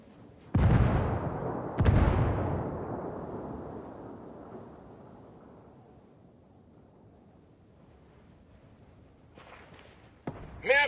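Two heavy grenade blasts from the Ghost Recon Wildlands video game boom about a second apart, each rolling into a long fading rumble that settles into quiet background ambience.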